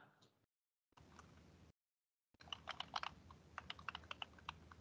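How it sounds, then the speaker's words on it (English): Keys clatter on a computer keyboard in quick, irregular bursts of typing, faint and close, with brief gaps of silence between bursts. "I can hear someone typing."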